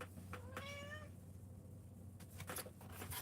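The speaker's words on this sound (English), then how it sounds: "Yeah, we always hear the kitty, don't we?" A cat gives a single faint, drawn-out meow, heard at some distance under quiet room hum, followed by a few soft bumps and rustles.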